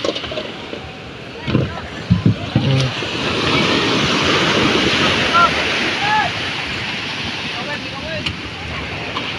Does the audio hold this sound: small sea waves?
yes